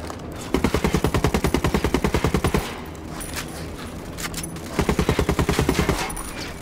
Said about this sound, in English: I need to take that light machine gun.